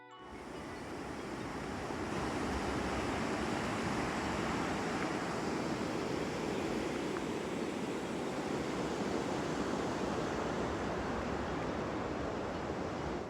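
Small Falls on the Wallace River, a frozen waterfall on a cold day, makes a steady, broadband rushing roar that holds unbroken and fairly loud throughout, with no voices.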